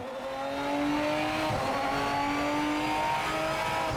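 Race car from the game Project Motor Racing, its engine rising in pitch as it revs, then dropping sharply at a gear change and climbing again, loud and continuous.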